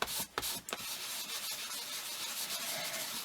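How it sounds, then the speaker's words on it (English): Product is rubbed in circles onto Kraftex or leather by hand, making a soft, steady close-up friction hiss after a few brief scuffs at the start. "it's nice to rub round in circles, and it brings out the grain of the Kraftex, or grain of the leather"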